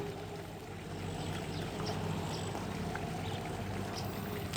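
A DC 12-36 V water pump running on just 10 volts pushes out a steady stream of water, a continuous close pouring and splashing rush at an even level throughout, with no talking.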